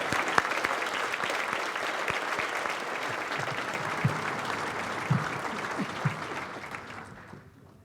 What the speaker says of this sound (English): let's give one last round of applause to all of our educators and students tonight